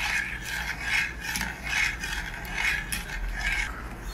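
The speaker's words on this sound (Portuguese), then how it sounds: "Vão raspando assim o canto da panela" A spoon scrapes the side and corner of a cooking pot while creamy strawberry sweet is stirred, in repeated rhythmic strokes about once a second, close and fairly loud.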